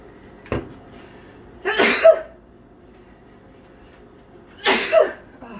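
Two sharp sneezes, set off by pollen, burst out a few seconds apart, each one a short breathy blast preceded by a quick intake, with a small click or throat sound just before the first.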